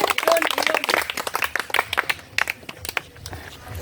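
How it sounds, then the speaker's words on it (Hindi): A crowd of onlookers at a video shoot for a Maithili comedy claps for the hero in a burst of uneven, close hand claps that thin out toward the end, with some voices mixed in. "हम चाहे छियै जे ओइ हीरो के लेल एक बार ताली भ जाए सब आदमी"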